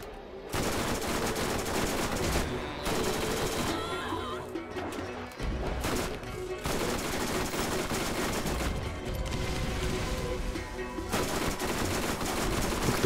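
Gunfire in the Borderlands remaster, loud continuous volleys of rapid shots and crashing impacts that pause briefly twice before resuming.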